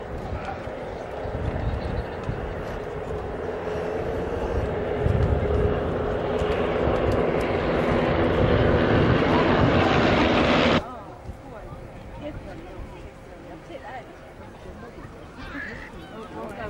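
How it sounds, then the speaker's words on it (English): Formation of Army Air Corps aircraft, including a Lynx helicopter, passing over the Middle Wallop airshow in 1996, a broad rising engine roar that builds for several seconds then cuts off abruptly, with an announcer talking throughout. "Leading aircraft behind him, Mike Nelson, behind him, the rig behind him, Lynx, and Charles Boyack bringing up the rear end"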